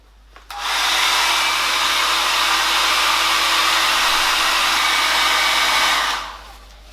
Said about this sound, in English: now I'm going to hit it with the hairdryer to dry it quickly